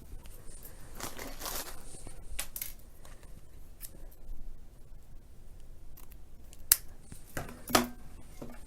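Scissors snip through decorative diamond wrap for a wedding centerpiece vase. Several crisp cuts and crinkles come up close in short clusters, with quiet pauses between them.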